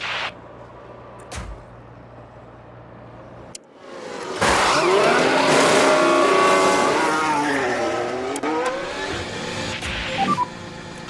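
F1 Manager 24 race cars scream past near the pit lane at the Saudi Arabian Grand Prix, engines rising loud and close in a long sustained roar after a quieter opening with faint beeps.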